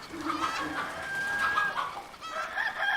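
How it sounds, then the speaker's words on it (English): Chickens and a rooster in the video game Haunted cluck and chatter in quick, close bursts, with a few higher calls rising over the clucking. "Lively chicken and the rooster."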